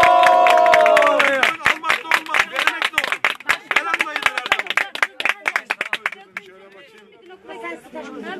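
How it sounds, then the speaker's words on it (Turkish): Rhythmic group clapping at an engagement party, sharp regular claps over lively crowd chatter and talk, fading into looser scattered claps and voices toward the end. "Alkış."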